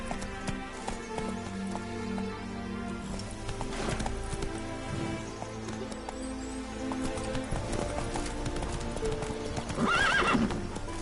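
Roach, the horse in The Witcher 3, gallops with rapid rhythmic clip-clop hoofbeats close by, ending in a loud whinnying neigh near the end.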